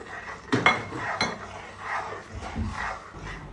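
A spoon clinks and scrapes against a metal pot while sweet payasam with fried raisins and cashews is gently stirred, with a few sharp knocks and soft sloshing, close up and without speech.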